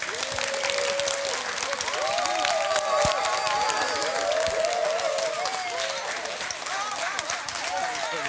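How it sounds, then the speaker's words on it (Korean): An audience at a Korean lecture event applauds to welcome the guest speaker, author Go Do-won. The clapping is loud, dense and sustained, with a crowd murmur and some cheering mixed in. "여러분 따뜻한 박수로 함께 맞아주시기 바랍니다"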